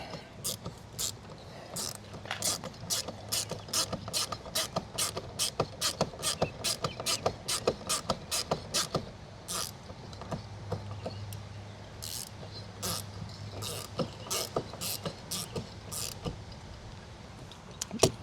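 A hand ratchet tightens bolts on a 2026 Sea-Doo Spark Trixx jet ski during an oil change, giving a close, steady run of sharp clicking pawl strokes in quick repeated bursts with brief pauses between them, with no talking.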